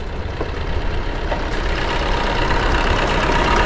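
A Maruti Vitara Brezza's 1.2-litre diesel engine idles with the bonnet open, giving a steady, loud, even clatter and rumble that runs unchanged from start to finish.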